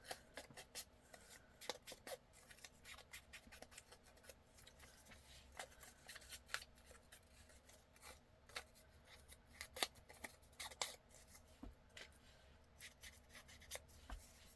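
Scissors cut paper for a scrapbooking craft, a quiet run of small irregular snips and rustles spread across the stretch with no voices.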